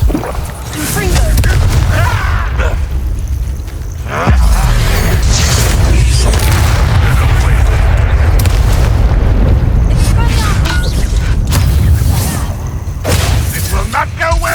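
In Hogwarts Legacy gameplay, a Bombarda spell explosion sends out a loud, sustained booming rumble amid battle effects and game sounds, with character voices heard.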